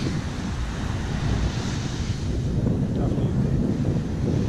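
Surf at a small bay beach in Cavalaire-sur-Mer, France, washes in a constant low roar, mixed with heavy wind buffeting against the microphone.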